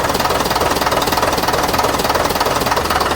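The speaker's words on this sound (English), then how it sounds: "The new engine is in, it's running, and it's sounding as sweet as a nut." A newly fitted engine in an AEC Routemaster London bus runs steadily nearby, a dense, rapid knocking diesel clatter with an even, unchanging rhythm.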